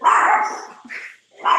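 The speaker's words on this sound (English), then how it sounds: "sorry, that is my dog." A household dog barks loudly and close by, two quick barks separated by a short pause, with no other sound.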